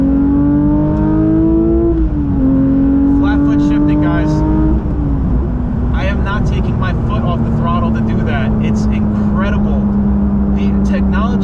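Porsche GT3 engine, from inside the car, droning steadily, then climbing and dropping in pitch with throttle blips as the revs shift, with road noise underneath.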